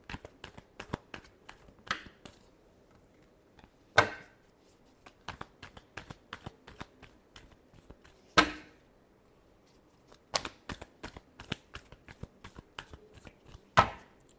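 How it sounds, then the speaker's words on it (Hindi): Tarot cards being shuffled by hand, a series of quick riffling and snapping clicks in uneven bursts with sharper slaps every few seconds, close and fairly quiet with no voice. "Last shuffle."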